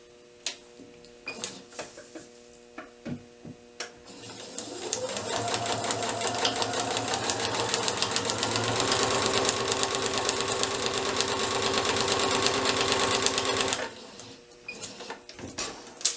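Sewing machine runs steadily for about ten seconds, stitching down a seam line on a paper-pieced quilt block, preceded by a few light clicks and handling taps; close and even, with no talking.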